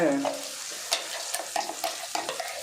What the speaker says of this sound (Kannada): ಮಿಕ್ಸಿ ಜಾರಲ್ಲಿರೋದನ್ನು ಬಗ್ಸ್ತಾ ಇದ್ದೀವಿ ಚಟ್ನಿ